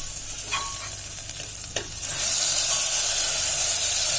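Tomato dropped into hot oil with chilli, ginger and garlic for a drumstick biryani base, a loud close sizzle that swells into a bright steady hiss after a couple of spoon scrapes.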